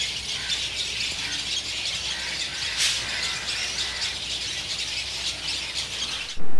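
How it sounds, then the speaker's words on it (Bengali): Many birds call and squawk from trees in a green riverside resort setting, a steady dense chorus of chirps continuing throughout, with a brief louder burst near the end. "শুধু চারিদিকে সবুজ গাছ আর পাখির আওয়াজ, প্রচুর পাখি, প্রচুর।"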